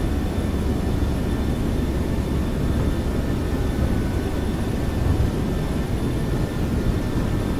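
MD-11F freighter jet engines roar at takeoff thrust during the takeoff roll in a flight simulator, a steady, loud, broadband rumble with a faint high whine, no talking.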